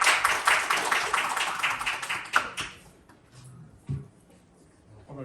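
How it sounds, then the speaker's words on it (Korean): A seminar audience at a policy forum on youth employment and startups claps briefly, a quick patter of hands that fades out within a few seconds, leaving a quiet room with a few faint knocks. "뜨거운 박수 한번 쳐주시기 바랍니다"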